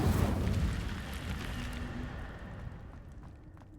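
Incendio fire spell cast in the video game Hogwarts Legacy, a loud burst of roaring flame that whooshes up at once and then fades over a few seconds, alone without talk.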